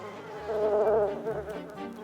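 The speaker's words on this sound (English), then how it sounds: "Angry bees." Cartoon swarm of angry bees buzzing loudly and close, a dense droning hum that swells and wavers for a couple of seconds with no talk over it.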